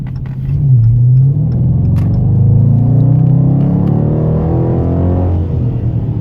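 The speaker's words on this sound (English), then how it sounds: "that's the Hemi sound I've been missing" A deep, loud V8 exhaust rumble from a 2017 Dodge Charger R/T 5.7L Hemi with active exhaust holds steady and close, with the engine pitch rising and falling as it revs.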